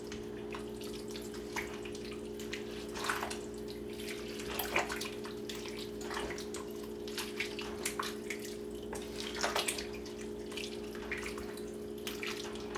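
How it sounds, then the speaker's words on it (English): Hamburger soup with potatoes, squash, zucchini and a bay leaf being stirred in a pot, giving soft, irregular wet sloshes and light scrapes over a steady low hum, fairly quiet, with no talking. "we're just going to give this a little stir"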